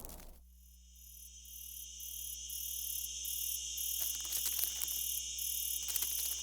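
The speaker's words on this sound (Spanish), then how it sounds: "En la sombra de un oasis, dos grillos de matorral copulan." Bush crickets mating in the shade of a desert oasis chirp in high, rapid pulsing trills, with a steady buzz and intermittent bursts of stridulation layered over a quiet background.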